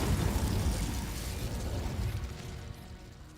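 Hogwarts Legacy's Incendio fire spell erupts in a loud, broad whooshing burst of flame that gradually fades over a few seconds, with no talking over it.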